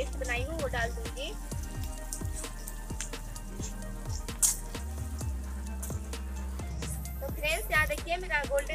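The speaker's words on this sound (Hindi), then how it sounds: "अच्छे से प्याज को गोल्डन ब्राउन होने देती हूँ" Onions browning to golden in a pan for Indian egg curry, a steady close sizzle and crackle running throughout with occasional soft drip-like pops, while someone talks over it.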